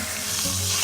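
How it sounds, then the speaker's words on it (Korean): Food dropped into very hot oil gives a dense, loud, continuous sizzle that swells slightly across a brief moment, close up and without voices. "뭘 담그면 칙 소리가 날 정도 이 정도가 되면은 이렇게 넣어줍니다"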